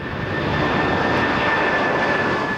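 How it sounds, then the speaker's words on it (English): Loud, steady roar of a jumbo jet's engines during takeoff, a continuous broad rumble with a high whine on top and no talk. "Even a jumbo jet weighing over 300 tons can create enough lift to get off the ground."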